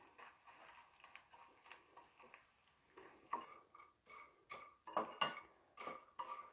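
A flaxseed mixture for alsi ladoo fries gently in a pan while a spoon stirs and scrapes it, giving repeated close clinks and scrapes that grow louder and sharper toward the end, with no talking.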